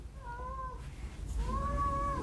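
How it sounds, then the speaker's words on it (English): A cat meows twice, each cry drawn out and tonal, close by, with a low rumbling background hum beneath and a brief pause between calls. "We turned the camera on and the cat start meowing."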